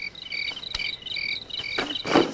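Crickets chirp in quick, repeated high trills at a moderate distance, with a few soft knocks and a brief louder rustle near the end.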